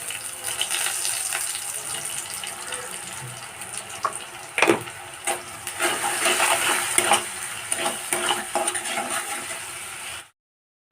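Onions with a little salt are stirred in a pan, a continuous sizzling hiss broken by scattered clinks and scrapes of the spoon, close and fairly loud, ending in a sudden cut to silence.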